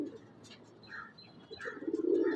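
Pigeons, a mixed flock of Indian fancy breeds including tiplers, coo softly in a loft with a few faint chirps, the low throaty cooing swelling louder toward the end.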